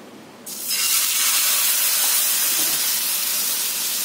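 Ragi flour uttapam batter poured onto a hot oiled pan bursts into a loud, sustained sizzling hiss after a brief quiet start, continuing steadily to the end.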